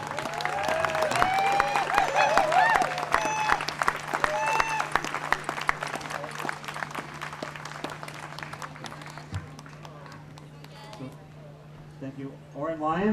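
An audience at a music festival gives loud applause for Oren Lyons, dense clapping and crowd noise with voices mixed in, gradually thinning and fading toward the end over a steady low hum.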